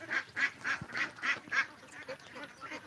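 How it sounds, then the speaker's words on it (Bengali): Farm ducks quack in a steady run of loud, close calls, about three or four per second, with faint rustling between them. "এখন বর্তমানে পাঁচশো হাঁস রয়েছে এই খামারে"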